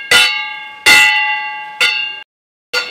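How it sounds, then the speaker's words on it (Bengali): Kansa bell-metal gong struck during an evening home prayer, four ringing metallic strikes with bright sustained overtones, each decaying before the next, the third cut short and followed by a brief silence before the last. "আর এই যে মেয়ে এখন বাজাবে কাঁসা।"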